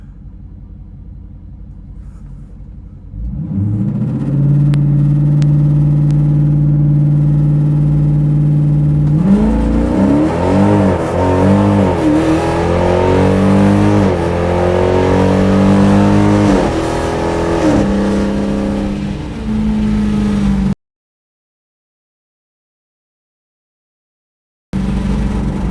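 Drag racing cars, including a bracket and 11.50 index class car, launch and accelerate hard down the strip with loud roaring engines and climbing revs through the gears, then cut off abruptly into silence before briefly returning.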